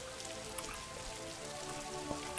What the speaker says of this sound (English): Oh, it's raining in the desert.